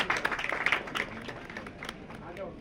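An audience clapping at a Shiv Jayanti celebration at a museum in Mount Abu, a quick scatter of claps that thins and fades, mixed with talk in the room.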